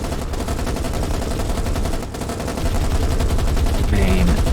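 Naval guns in the War on the Sea game fire as rapid, dense automatic bursts, a loud continuous rattle of gunfire with a brief tonal whine near the end.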